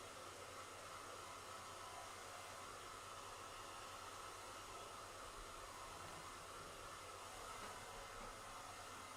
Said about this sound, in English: really long hair, and it takes a little bit for her to blow dry it